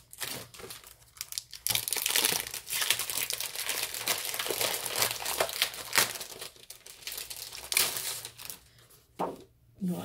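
Paper packaging of a spring botanical paper collection being opened, crinkling and rustling loudly up close in continuous handling bursts with brief pauses, and no voices over it.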